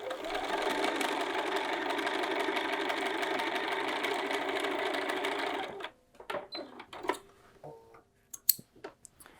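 A sewing machine stitches along a pocket edge in a steady close whirring run for about six seconds, then stops, and a few small clicks and handling taps follow.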